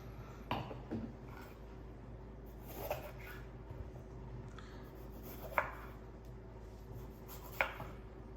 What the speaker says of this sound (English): Ready to chop up our peppers and our onion.